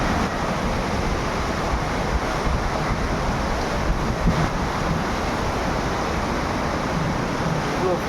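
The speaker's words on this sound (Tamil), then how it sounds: "இவ்வளோ ஃபோல்ஸாக தண்ணி வருது அருவியில்." Rushing water of Thirparappu waterfall in Tamil Nadu, a broad unbroken roar of falling and churning water heard close, steady and loud with no pauses and no voices.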